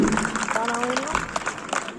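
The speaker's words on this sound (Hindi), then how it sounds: "सभी तालियां बजा करके उनका स्वागत करें।" Applause from a rural gathering welcoming a local MLA, a continuous patter of many hands clapping at moderate volume, with a voice speaking briefly over it.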